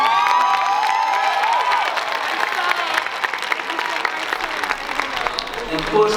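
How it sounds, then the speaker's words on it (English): Graduation crowd at an Innovations High School 2024 ceremony claps and cheers for families, sustained applause with whoops, shouts and whistles rising over it, voices mixed in. "A special round of applause for you because this is your graduation as well."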